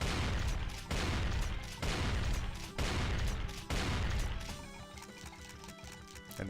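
Pump-action shotgun blasts fired at an Arachnotron in a Doom mod, four loud, evenly spaced booming shots with long rumbling tails, followed by a busier stretch of game noise.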